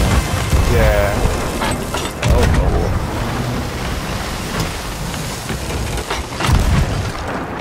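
Ship cannons in Sea of Thieves fire several heavy booms, spaced apart across the stretch, over a constant wash of sea and rain-like noise, with a player talking now and then.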